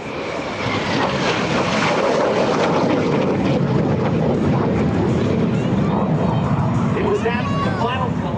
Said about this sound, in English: Here's the MiG.